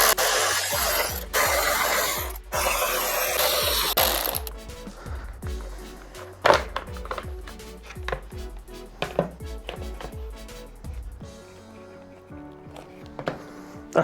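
Torx T30 screws being undone and the headlight removed on a KTM 690 SMCR motorcycle: a dense wash of noise at first, then a run of sharp metallic clicks, ratcheting and knocks, close and irregular, with no talking.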